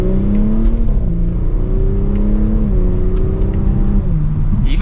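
Audi S5 Sportback, a 2023 Premium Plus, accelerating hard in second gear, its engine note climbing steadily in pitch with a dip at a shift, loud and continuous from inside the cabin with no talk.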